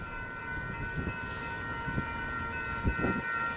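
Union Pacific double-stack freight train rolling past at a crossover, a steady low rumble with rhythmic wheel thumps and a sustained tonal whine, heard from trackside without speech.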